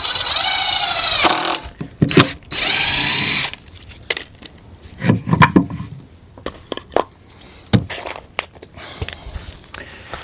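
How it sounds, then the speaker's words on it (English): A power drill drives screws into green wood raised bed planter boards, with two long high whining bursts followed by short thuds and handling knocks of the tool against the timber. "I am placing a couple of extra screws down here"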